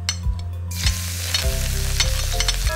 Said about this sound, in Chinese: 现在油温已经上来了，我们爆香一点姜丝和蒜末。